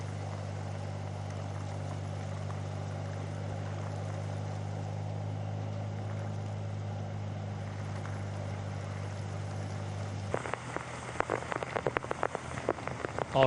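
Rain falls steadily in a continuous hiss under a constant low engine drone, then the drone cuts out and louder, irregular patters and splashes follow.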